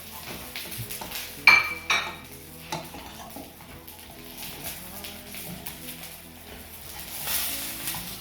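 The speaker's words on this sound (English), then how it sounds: "we're going to add in the flour. Mix it all around. Coat all the onion in it." Flour is stirred into softened onions in a pan, with utensil clinks and scrapes against the metal and a faint sizzle underneath, while a person talks.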